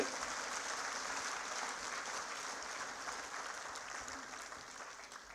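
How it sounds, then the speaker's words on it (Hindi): A seated audience at an OBC Morcha political gathering applauds loudly to welcome a guest, with dense, sustained clapping that holds steady and fades only slightly toward the end. "जोरदार ताली बजाकर सारा ओबीसी समाज भाई साहब का स्वागत करे"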